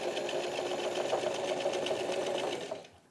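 A sewing machine runs continuously while stitching a shirt seam, a fast steady mechanical chatter with a humming drive that slows and stops near the end, close and alone.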